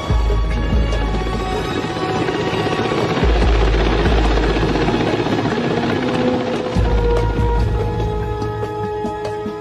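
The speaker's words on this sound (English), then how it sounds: "Next day, November 2nd, the Su-33 made its first deck takeoff." A Sukhoi Su-33 fighter jet makes a carrier deck takeoff, its engine roaring loud and continuous throughout with no voices.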